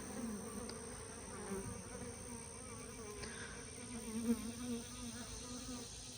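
Honey bees buzz around an opened hive frame holding honey, brood and fresh eggs, a continuous droning hum with individual bees rising and fading close by, fairly quiet, with no talking.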